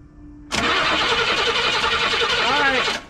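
A 1967 Cadillac that has sat for 15 years, its engine cranking without starting; a loud rhythmic whirring starter churn kicks in abruptly and runs steadily for about two and a half seconds, then stops.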